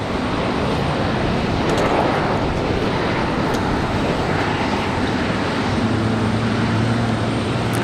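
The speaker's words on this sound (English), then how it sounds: "Got a Southwest on the way out." A Southwest airliner departs the airport at Raleigh-Durham, its broad jet roar steady and fairly loud throughout, with a low rumble building in the final seconds.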